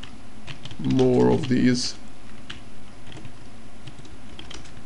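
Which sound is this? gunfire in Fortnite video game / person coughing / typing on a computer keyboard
typing on a computer keyboard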